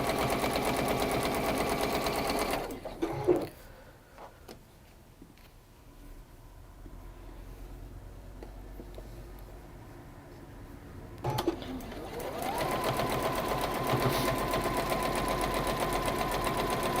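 A sewing machine stitching patchwork fabric pieces together along the sides, running in steady loud bursts at the start and end with a quieter pause in between.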